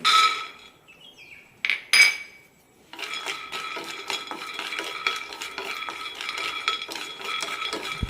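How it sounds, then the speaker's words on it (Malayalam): Peanuts being roasted in a pan for coconut chutney: after a few sharp metallic clinks and a near-silent pause, a steady scraping stir of nuts against the metal pan runs on, close and fairly loud. "നിലക്കടല റോസ്റ്റ് ചെയ്തെടുക്കാം"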